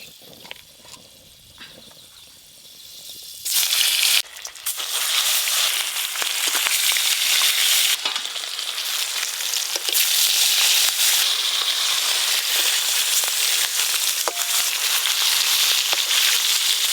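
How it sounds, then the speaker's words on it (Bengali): A loud, steady sizzle and crackle of hilsa fish pieces frying in hot mustard oil in a wok starts abruptly after a few seconds of quieter kitchen clatter and continues throughout. "কড়ার তেল বেশ ভালো করে গরম হয়ে গেছে। এবার মাছের পিসগুলো এক এক করে বসিয়ে দেব।"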